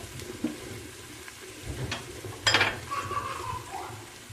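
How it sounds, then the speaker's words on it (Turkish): Water splashes and runs briefly in a sink with clinking dishes, a burst of flow midway, close and moderately loud, with faint voices in the background. "Mesela şöyle bulaşık yıkıyor."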